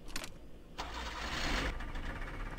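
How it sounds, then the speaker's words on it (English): A small two-stroke car engine in the video game Jalopy, a Leica 601, cranks and catches, settling into a buzzy, steady idle with a slight swell, heard from close by. "Once again, listening to that two-stroke purr."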